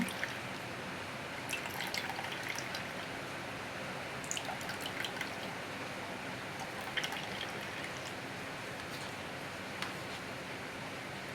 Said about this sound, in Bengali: এর দ্বারা গোলাপ জল পড়বে